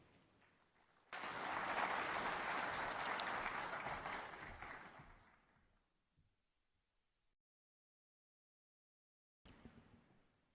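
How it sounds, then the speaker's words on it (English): Conference audience applauding a speaker at an ID for Africa event in Nairobi: loud, sustained clapping from a large crowd for several seconds, fading out into silence, then a brief return. "Another round of applause for Executive Chairman."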